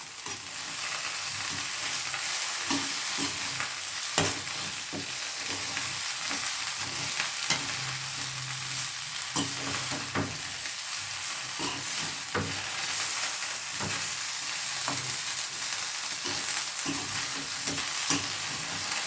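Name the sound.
stirring chicken with sauce in a pan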